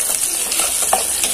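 Garlic sizzling and frying in a pan while it is stirred, a steady close crackle with short scraping stir strokes, no voices.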